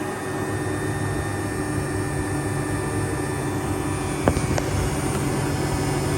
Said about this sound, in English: You can hear the compressor. Listen.